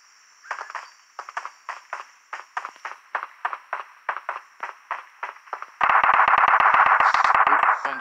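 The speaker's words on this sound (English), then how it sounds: "Gunshots that way." A string of evenly spaced sharp taps leads into a loud, dense burst of rapid-fire gunshots in PUBG Mobile.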